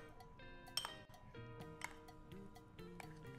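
Utensils clinking against a glass or ceramic bowl while mixing a zucchini filling with olives, meat crumbles and mushrooms, quiet bright ringing taps at an irregular pace.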